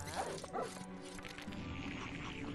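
A dog barks and yips a few times in quick succession in LEGO Harry Potter, then gives way to a steady background hum with faint ambient tones.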